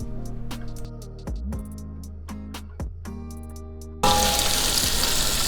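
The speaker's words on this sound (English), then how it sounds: "add 2 tablespoons of olive oil to a nice hot pan, and then add our tofu to that pan" Tofu hits two tablespoons of olive oil in a hot pan, bringing a loud, steady sizzle that swells abruptly after a few quieter clinks and taps of pan and utensil, with no one talking.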